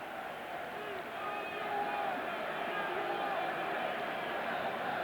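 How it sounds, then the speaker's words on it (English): Football stadium crowd at a Sweden vs England Euro 2000 qualifier, a broad steady roar that swells slightly and holds, heard at a distance. "the crowd are just coming to life a little bit, aren't they? A little bit noise and a little bit more belief from them"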